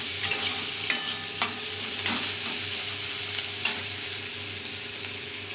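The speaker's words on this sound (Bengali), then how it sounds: "লঙ্কা আমি কেটে রেখেছিলাম সেগুলো দিয়ে দিলাম। এটাকে ভালো করে ভেজে নেব।" Chopped chillies and onion frying in a pan for a Bengali kochu shak dish with hilsa head, giving a steady sizzle with a few brief stirring scrapes, close and alone.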